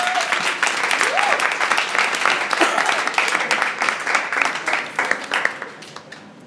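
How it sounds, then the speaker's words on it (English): A conference audience breaks into a dense, sustained round of applause that holds strong for several seconds, then thins slightly toward the end, with a few voices mixed in. "I think that deserves a round of applause."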